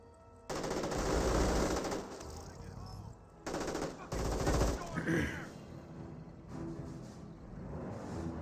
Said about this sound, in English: Looks like another MG42.